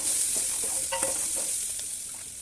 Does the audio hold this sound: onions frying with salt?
yes